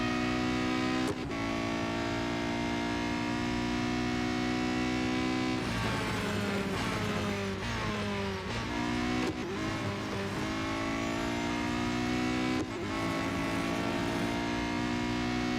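A Porsche race car engine revs steadily and loud in the Real Racing 3 video game, its sustained whine rising and falling through gear shifts for the whole stretch, with brief tire noise and no talk.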